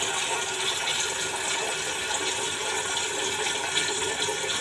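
Water streams steadily from a kitchen water filter while a cooking pot is filled for a winter melon and pork rib soup, a continuous close hiss and splash with no talk over it.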